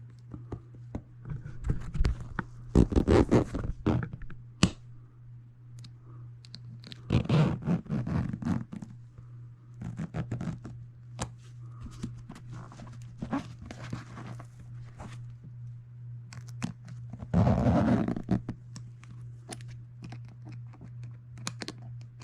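Zipper being worked closed on a Katzkin leather seat cover during a Mopar install in a Dodge Dart, heard as three separate bursts of close zipping and rustling over a steady low hum.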